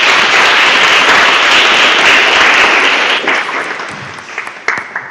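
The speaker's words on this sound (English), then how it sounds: "Big round of applause for Anna." Graduation ceremony audience gives a loud round of applause for the facilitator, dense at first and then thinning into scattered claps as it winds down.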